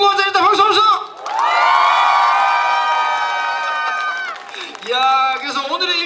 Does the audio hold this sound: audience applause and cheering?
yes